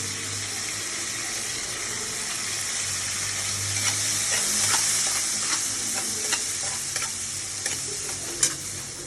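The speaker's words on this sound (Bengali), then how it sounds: "চিংড়ি মাছগুলো ভেজে নেব" Shrimp seasoned with salt and turmeric fry in a pan with a loud, continuous sizzle and occasional stirring scrapes, close and without talk.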